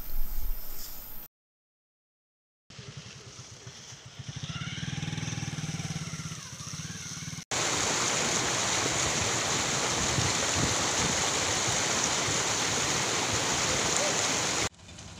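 Polluted drain water churns and rushes with foam boiling up, a loud, steady broadband roar that sets in abruptly after a stretch of quieter, mixed background sound and keeps going without pause.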